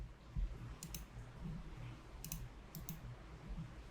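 A computer mouse gives a few quiet, sharp clicks on a desk, spaced apart, with faint low room noise between them.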